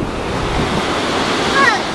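Ocean surf washing steadily onto a beach, a continuous broad roar with wind buffeting the microphone, loud and close with no clear voices.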